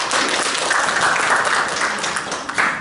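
An audience at a seminar breaks into dense, sustained applause welcoming a speaker to the stage, a continuous wash of many hands clapping that stays loud and only thins slightly near the end.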